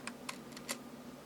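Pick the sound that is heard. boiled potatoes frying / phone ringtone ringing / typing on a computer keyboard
typing on a computer keyboard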